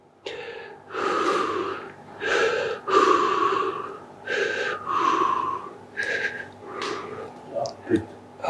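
A person receiving massage therapy takes a series of deep, audible breaths, with repeated gasping inhales and exhales in a steady rhythm, close and clear, ending with a few shorter snorts.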